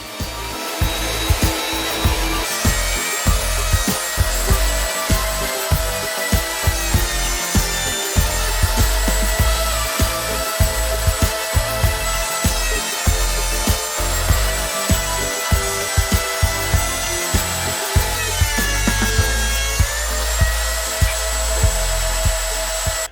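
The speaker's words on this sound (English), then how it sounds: "Now send both your walnut and maple boards through the planer to make sure you get exactly the same" Walnut and maple boards are fed through a planer, giving a loud, steady machine whine with repeated cutting bursts and short dips as each board passes, ongoing throughout.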